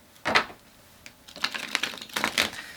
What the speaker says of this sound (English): I'm gonna shuffle this deck